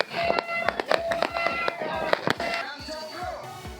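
New Year's Eve fireworks over a crowded Monas square in Jakarta burst in a rapid string of sharp, loud cracks, with crowd voices mixed in and a duller wash of noise as the bangs thin out.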